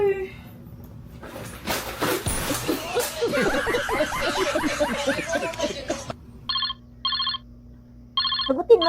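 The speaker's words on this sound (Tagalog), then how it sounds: "Sagutin mo, may tumatawag, oh." A mobile phone rings with an incoming call, sharp repeated electronic ringtone bursts in short evenly spaced pulses, following a stretch of laughter and chatter among people.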